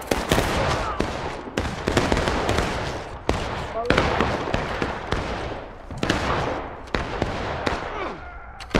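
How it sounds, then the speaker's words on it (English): Rapid rifle fire at a Civil War battle reenactment at Bloody Lane, with many sharp, close and distant shots cracking in dense, irregular volleys throughout. Shouted commands are heard between the shots. "Keep up that rapid fire, seven."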